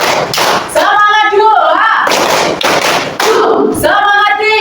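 Rhythmic hand-clapping ice breaker 'tepuk semangat' in a school lesson, sharp group claps in short bursts alternating with chanting voices, loud and close.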